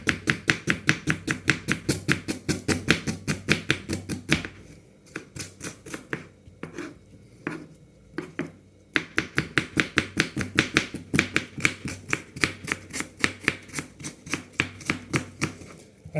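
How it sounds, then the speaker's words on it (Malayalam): Onions being chopped with a knife on a board for Ramadan samosa filling, a fast, steady run of close, crisp knife taps with a brief pause midway before the rapid chopping resumes. "ഞാൻ ഉള്ളി ഇങ്ങനെ വെട്ടിക്കൊണ്ടിരിക്കുകയാണ്"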